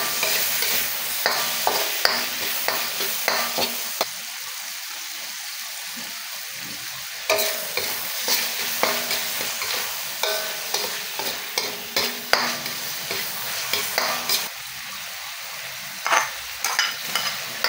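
Sliced tomato, moringa fruit and pork sautéing in a pan, a steady sizzle broken by repeated bursts of stirring and scraping, close up and without talk.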